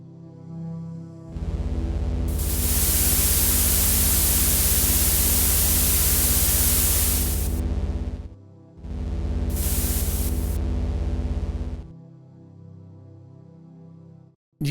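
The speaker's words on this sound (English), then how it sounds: "our noise patch is a little noisy" Omnisphere 3 synthesizer noise patch, a broad hiss-like layered tone that swells loud, cuts off, then returns and fades across its layers, with no voices.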